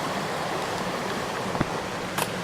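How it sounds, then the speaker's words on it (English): Sugar Creek running over shale, a steady broadband rush of flowing water close by, constant and fairly loud with a couple of faint clicks near the end. "It's next to this beautiful creek, Sugar Creek, what it's called."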